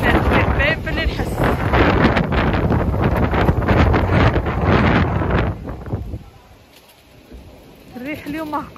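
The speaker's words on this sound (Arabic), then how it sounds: "الريح اليوم قوي" Strong wind buffets the microphone outdoors with loud, continuous rumbling gusts for about six seconds, then drops away to quiet before a voice briefly speaks near the end.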